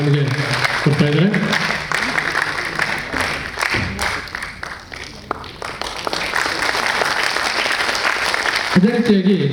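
Audience applause at a university Republic Day celebration in Mangaluru, a broad wash of clapping that swells and thins across the clip, with voices speaking at the start and end.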